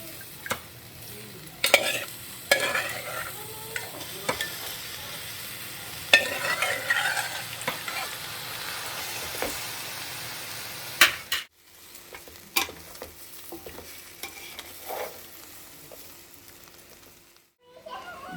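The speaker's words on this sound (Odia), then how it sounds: "ଏଥର ମୁଁ ସିଝା ମାଂସକୁ ଛାଣିକି ମୁଁ ଏବେ ଚାଉଳ ଯେଉଁ ଭଜା ହେଉଛି ତା ସାଙ୍ଗରେ ମିଶାଉଛି।" Boiled mutton being stirred into rice frying in a pot for mutton biryani: a steady sizzle with repeated clanking scrapes of a ladle, close up, then a quieter stretch with scattered knocks toward the end.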